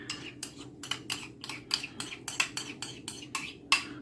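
A metal spoon clinks rapidly against a bowl while char siu sauce with ketchup is mixed, about a dozen bright, evenly spaced taps and scrapes up close. There is no talking.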